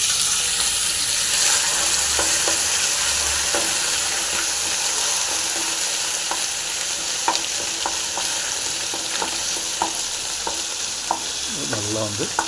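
Gherkins, a pickle, sizzle in hot oil with popped mustard seeds, a steady broadband hiss with scattered pops and clicks of a utensil stirring, loud and close throughout with no talking.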